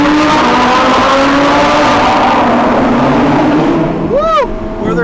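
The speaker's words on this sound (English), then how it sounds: "Let's hear what this Performante sounds like." A Lamborghini Huracan Performante roars loudly through a short tunnel during a rally, a dense continuous engine blare with echoing reverberation, and a passing horn-like swoop near the end.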